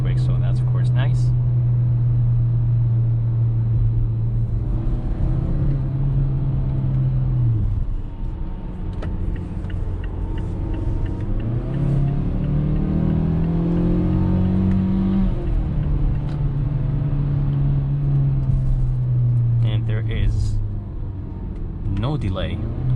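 A 2021 Mazda CX-5 with a 6-speed automatic transmission being driven, its engine droning loudly and rising and falling in pitch as the gears shift up and down, heard from inside the cabin.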